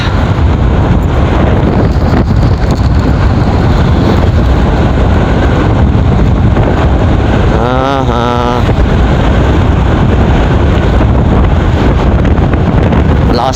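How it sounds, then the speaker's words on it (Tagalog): Strong wind batters the microphone with loud, constant roaring buffeting throughout, and a brief rising tonal whine cuts through midway at Dimasalang, Masbate. "Malakas talaga yung hangin,"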